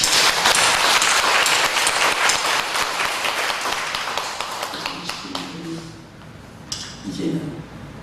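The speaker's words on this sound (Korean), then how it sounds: "최칠성 집사님 위해서도 박수 한번 치십시오." A church congregation claps for a deacon during a Sunday service, with a burst of many hands that fades out toward the end as a voice begins speaking.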